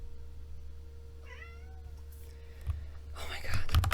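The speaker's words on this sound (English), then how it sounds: "Cats are adorable creatures. They come in, say meow, and then come out." A single cat meows once at close range, a short rising-falling call over a low steady hum, followed by rustling movement.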